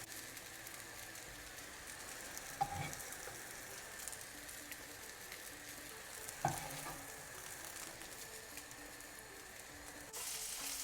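Pea, feta and mint fritters fry in a pan with a steady, soft sizzle and crackle, faint and continuous, broken by a couple of sharp clicks and a brief louder burst near the end.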